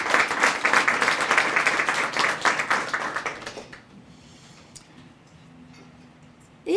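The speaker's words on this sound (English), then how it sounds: "Let's give them a great round of applause" An audience at a school student-of-the-month event clapping in a brisk burst for a few seconds, then trailing off into quiet room tone with a couple of faint taps.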